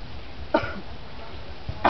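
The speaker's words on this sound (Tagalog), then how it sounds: "Naranasan mo rin bang may kausap ka at ubo ka ng ubo?" Two short, harsh coughs, one just after the start and another near the end, separated by quiet background noise.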